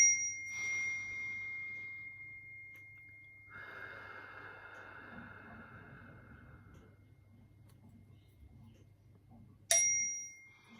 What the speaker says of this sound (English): So let's chime and clear the energy